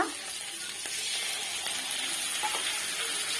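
Cumin paste going into hot oil where green chili has been frying, a steady, fairly loud sizzle and hiss that holds without pause, close by and with no talking.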